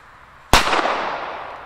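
A single Chinese firecracker goes off with one sharp, loud crack on a New Year's Eve test, then a hissing, fading tail of smoke and echo, and no voices.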